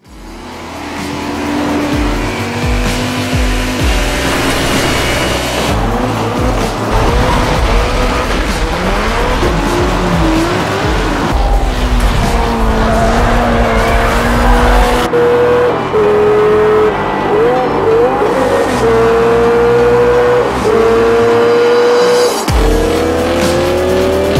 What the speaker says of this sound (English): You can get behind the wheel of the most incredible cars from the most prestigious manufacturers and race through over 400 challenging races.